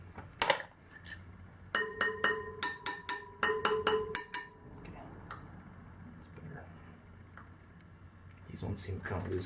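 Metal spokes on a Sur Ron Light Bee electric motorbike wheel are tapped one after another with a tool, giving a quick series of bright ringing pings near the mic, followed by someone talking.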